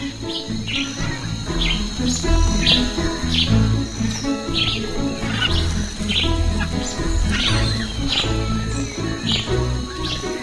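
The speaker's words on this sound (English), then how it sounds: "These glorious parrots set the forest ablaze and fill the air with their raucous calls." Scarlet macaws call in a tropical forest, sending out repeated harsh bursts over a constant bed of insect buzzing and other bird chatter.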